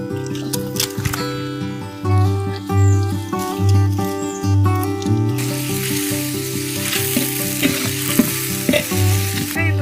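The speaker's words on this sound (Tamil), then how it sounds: "அடுப்பத்து வச்சோம் எண்ணெய் போட்டோம் வெங்காயம் போட்டிருக்கோம் வதக்கிட்டு இருக்கோம்" Onions sauté in hot oil for a country chicken biryani at a cashew-grove feast, a constant crackling sizzle with stirring, close up, under background music throughout.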